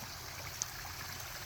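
Koi pond waterfall trickling steadily outdoors, a soft, constant broadband wash of running water with one faint tick, no voices.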